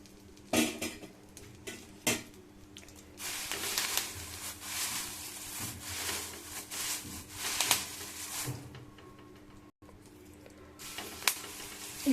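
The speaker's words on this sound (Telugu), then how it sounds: "ఇప్పుడు ఈ కరివేపాకుని మనం ఇందులో వేసుకోవాలి." Curry leaves hitting hot oil in a pan set off loud, crackling sizzles in bursts, with the clink and scrape of a spoon stirring against the metal. Nobody speaks.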